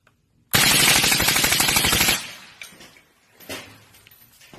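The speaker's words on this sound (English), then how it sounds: "20 rounds with the suppressor." A firearm fitted with a suppressor fires a rapid string of about 20 rounds during safety training, a loud, dense burst lasting under two seconds, followed by fading echoes and faint clatter.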